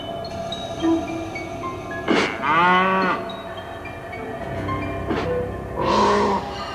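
A cow moos twice in a televised recreation of a farm incident, each call long and loud with drawn-out lowing, separated by a few seconds of quiet background.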